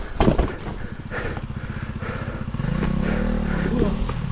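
Motorcycle engine revving nearby, a steady rough drone that swells and holds louder in the second half, with some clatter and brief voice-like sounds over the top during an outdoor ride.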